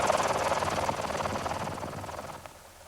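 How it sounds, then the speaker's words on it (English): A firefighting helicopter carrying a 300-gallon water bucket over a wildfire, its rotor chopping loudly and steadily nearby, then easing slightly as it moves off. "This northwest corner of the fire is one of the top priorities for helicopter crews and their 300-gallon buckets of water."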